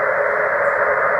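Amateur HF radio receiver audio coming up on the 20 meter band with a Radioddity HF-009 portable vertical antenna, a steady, loud band of hiss and static running unbroken with no voice.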